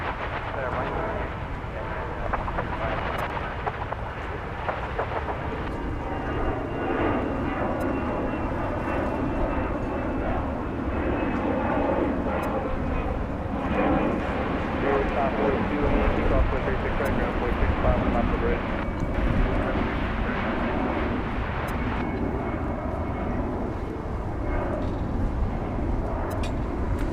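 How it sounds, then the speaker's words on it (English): An Airbus A319 jet taking off at DFW Airport gives a steady, broad engine roar that holds loud and continuous throughout, with a person speaking over it. "An Airbus A319 off to San Antonio, Texas."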